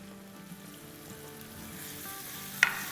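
Chopped onion hits hot oil with fried white cumin seeds, a soft, close sizzle that grows steadily, with a sharp clatter near the end, while okra bhindi is cooked in a restaurant-style recipe.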